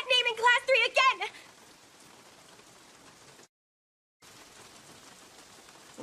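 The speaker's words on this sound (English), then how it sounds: "the rain's totally gotten worse" Heavy rain pours in a continuous, even hiss. A voice speaks briefly at the start, and the sound cuts out for a moment before the steady downpour returns.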